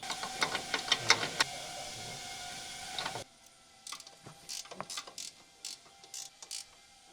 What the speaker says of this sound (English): Use the 15mm ratcheting wrench. Tighten the 3 strut tower mounting nuts.